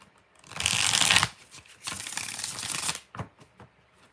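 Tarot cards shuffled twice in close, loud bursts, each lasting about a second with a riffling crackle, then a few soft taps and slides of the deck as it settles.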